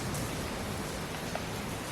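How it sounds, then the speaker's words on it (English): Rain falling steadily outdoors around a boat deck, a dense, even broadband patter that is fairly loud and continuous, with no voices. "It's raining."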